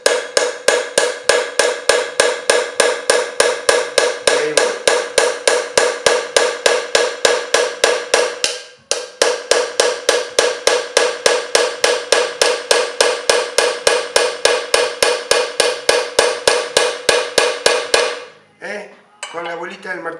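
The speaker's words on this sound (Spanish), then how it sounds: "El martillo, vamos a usar otro cincel, más fácil de usar" Rapid, steady hammer blows on a chisel during metal chasing, dozens of sharp ringing metallic taps in a fast even rhythm, close and loud, briefly pausing midway and stopping near the end.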